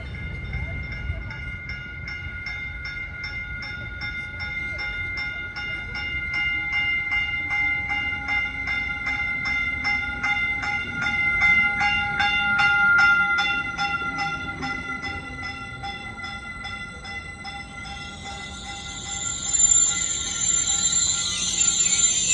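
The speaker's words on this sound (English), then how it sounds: "The train we're taking is now approaching" A Caltrain commuter train rolls steadily closer into a station, its wheels and carriages rumbling with a rhythmic clatter and a bright metallic ringing, growing slightly louder before fading into hiss.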